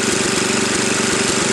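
A 1968 Simplicity 727 lawn tractor engine runs steadily up close, a loud, even idle with a rapid knocking pulse throughout and no voices.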